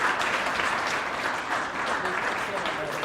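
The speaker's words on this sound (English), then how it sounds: "let's give a warm round of applause" Audience at a university Earth Day essay contest awards ceremony applauding fifth graders, a steady, moderately loud wash of clapping lasting the whole stretch, with faint voices mixed in.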